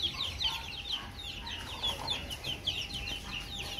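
Chicks peep in quick, high, repeated chirps throughout, fairly close, over a faint steady background hum with some low rumble at a rainy home.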